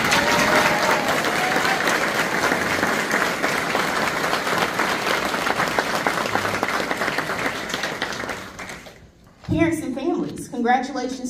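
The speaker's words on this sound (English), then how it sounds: "If y'all could just give them a round of applause." An audience gives sustained, dense applause and cheers for fifth grade graduates at an elementary school ceremony; the clapping fades after about nine seconds and a speaker starts talking.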